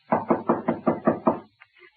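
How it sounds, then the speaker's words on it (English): Seven firm, evenly spaced knocks on a door in a 1944 radio drama, loud and close, followed by a short pause and two faint taps. "Shall I knock now?"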